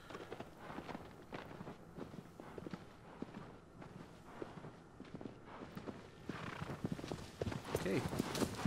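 Horse hooves galloping in Shadow of the Colossus, a steady clip-clop rhythm that builds toward the end, with someone talking over it.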